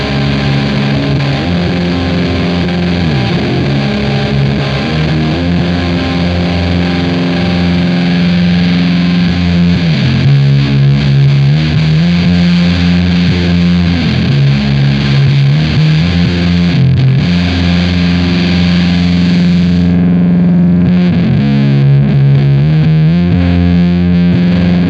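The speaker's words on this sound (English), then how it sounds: "let's hear how that sounds going from only fuzz phase to only big muff" Bass guitar runs through a Does It Doom pedal, blending from a Fuzz Face to a Big Muff, producing a thick, heavily distorted low riff that plays continuously and loudly, the tone shifting darker partway through.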